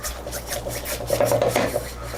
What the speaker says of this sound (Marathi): आता मी ही डाळ जरा घोटून घेते छानपैकी